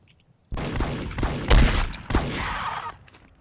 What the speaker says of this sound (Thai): เฮ้ยเฮ้ยมีคนยิงกันครับ กูยิง